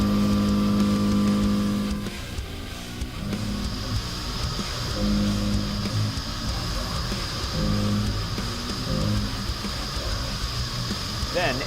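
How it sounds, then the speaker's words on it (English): A Kennametal HARVI I TE ball nose end mill shoulder-mills a contour into a metal block, giving a steady machine whir with humming tonal bands that shift as the cut progresses. "let's rough out a contour by doing some shoulder milling."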